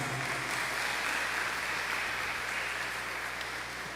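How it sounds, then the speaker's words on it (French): Congregation applauding during a Sunday Mass in a church, a continuous dense wash of clapping that stays loud and even for the whole stretch, with no talk over it. "Est-ce que nous pouvons applaudir pour cette brave maman?"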